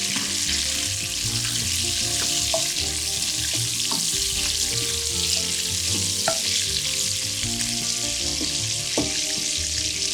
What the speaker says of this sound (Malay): Sedikit belacan, goreng sampai naik bau.